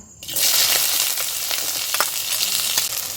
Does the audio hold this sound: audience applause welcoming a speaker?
no